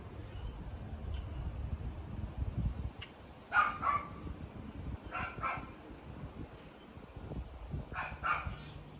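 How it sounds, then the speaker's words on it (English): A dog barks outdoors in several short bursts at a moderate distance, with faint bird chirps, low wind rumble and distant traffic murmuring underneath. "I heard a dog barking, the wind, a bird chirping, and some distant traffic"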